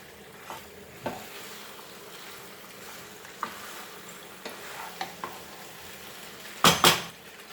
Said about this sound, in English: And now this is the time we are going to add our boiled penne to this. Mix this well.